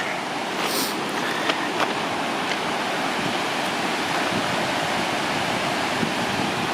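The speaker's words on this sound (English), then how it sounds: "the falls, which are pretty impressive right now with the water that's going over them" Berea Falls on the Rocky River runs high with snowmelt, a loud, steady roar of water pouring over the falls that holds constant throughout, with no voices.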